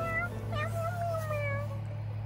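A cat gives a single drawn-out, wavering meow up close outdoors, its pitch sliding and falling over about two seconds above a steady low hum.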